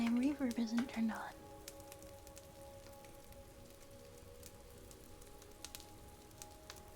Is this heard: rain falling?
yes